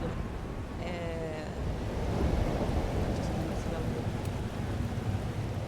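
Stormy weather in the video game Life is Strange: Double Exposure, a steady wash of rain and wind with low rumbling thunder running throughout, fairly faint, with a brief voice near the start.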